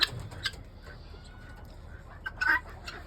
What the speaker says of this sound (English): Oh, you guineas are so annoying. Shut up.